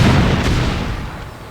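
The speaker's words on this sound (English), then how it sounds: "Siege tanks are devastating, but they're not that effective" A siege tank in StarCraft: Brood War fires one heavy artillery shot, a deep close boom that slowly decays over about a second and a half, with no voices.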